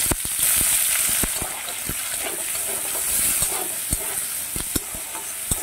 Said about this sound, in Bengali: পেঁয়াজটা খুব ভালো মতো ভাজা হয়ে গেছে